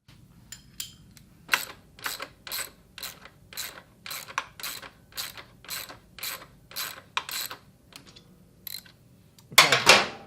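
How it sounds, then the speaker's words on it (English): A 14mm breaker bar loosens a nut on a Yamaha motorcycle, producing a long series of evenly spaced ratcheting clicks close by, followed by a louder metallic clatter at the end. "we're going to get a size 14mm breaker bar"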